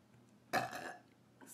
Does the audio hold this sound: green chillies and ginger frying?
no